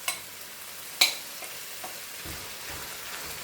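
Ground spices with coriander, cumin and methi leaves cooking in oil for a jumbo prawn and potato dish, a soft sizzle punctuated by a sharp clink and a few stirring scrapes, fairly quiet and close.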